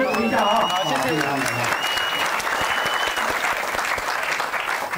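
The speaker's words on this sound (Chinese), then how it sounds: "好，你们场还先回座啊，掌声鼓励一下啊" A dense, sustained round of applause fills a gathering at a Taroko lodge in Hualien as participants head back to their seats. A voice briefly speaks over the start of the clapping.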